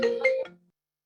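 A phone ringtone chimes during a Honolulu Climate Change Commission meeting: a short electronic melody of three quick tonal notes at moderate volume, then a brief lower tail before it cuts to silence, with no talking.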